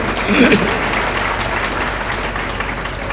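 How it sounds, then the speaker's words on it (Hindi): Applause from a large audience at a Kumbh Mela religious discourse gathering, a dense, steady wash of many hands clapping throughout, with a brief swell near the start and faint voices mixed in. "ताली बजाकर अभिनंदन"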